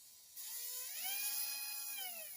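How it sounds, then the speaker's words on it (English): A small electric motor from a Road Runner RockBuster/Grasshopper clone whirs with a thin, steady high-pitched whine that rises slightly and holds, fairly quiet and close, with no talking. "listen to this motor. It's pretty quiet. It's pretty clean."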